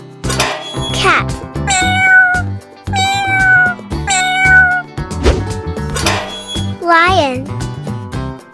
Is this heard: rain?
no